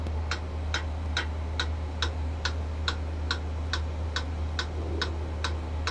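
A metronome clicks at a steady 140 bpm, crisp, evenly spaced ticks that are close and clear over a constant low background hum.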